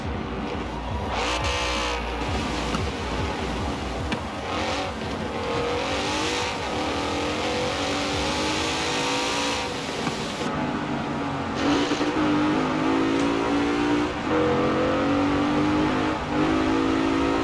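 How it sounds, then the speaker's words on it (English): A Mercedes-AMG GT in Forza Horizon 4 revs and accelerates hard, the engine note climbing and falling through gear changes with intake and supercharger whine, continuous and loud, with occasional tire squeal. "the noise you get from the intake and the supercharger, or the bi-turbos pulling in air is just amazing"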